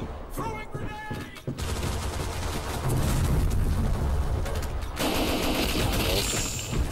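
Rapid gunfire bursts from the online shooter Black Squad, sustained and loud throughout with dense overlapping shots, while a voice talks underneath.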